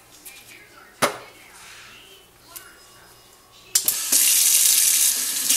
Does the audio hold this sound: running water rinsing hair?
yes